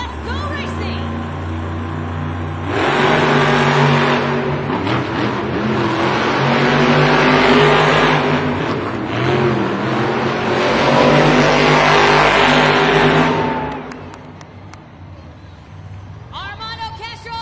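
Monster trucks El Toro Loco and Grave Digger racing in an arena, their engines roaring loud and sustained for about ten seconds before dropping away, with an announcer's voice and crowd noise over the top.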